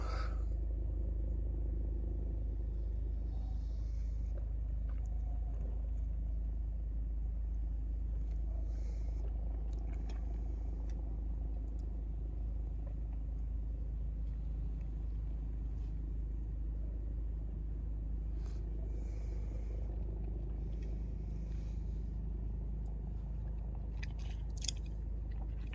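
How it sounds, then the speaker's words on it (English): Vehicles pass along a busy Tokyo street, a continuous low rumble of traffic with occasional louder swells and faint clatter, steady throughout with no voices. "anytime I pause, it's because there's a vehicle going by and it's very loud"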